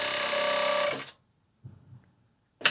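Juki MF 7923 industrial coverstitch machine sewing modified jersey of uneven density, a loud, fast whirring run that stops abruptly after about a second, followed by faint handling noises and a brief restart at the end.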